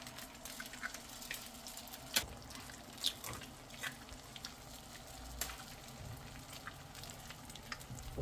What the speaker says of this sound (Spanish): Llegó el turno de poner, de estrellar el huevazo, miren.